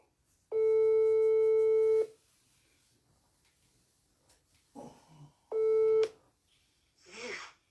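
A telephone call-back tone: two loud, steady electronic beeps of about a second and a half and half a second, separated by quiet gaps with faint breathy noises.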